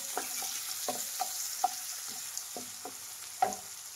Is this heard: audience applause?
no